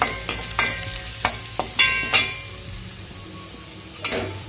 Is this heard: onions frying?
yes